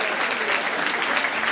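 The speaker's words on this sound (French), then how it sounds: "Pareil, on peut aussi l'applaudir." Audience at a judo club's general assembly in Saint-Georges-sur-Eure applauding steadily, a dense, even wash of clapping from many hands throughout.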